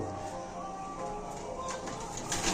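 Pigeons in a loft coo softly at middle distance over a steady dense background hum, with low murmuring calls running throughout.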